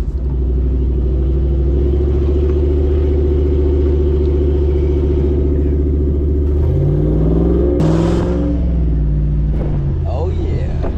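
A car engine rumbles loudly nearby and then revs up as the vehicle accelerates away, a deep steady drone rising in pitch toward the end.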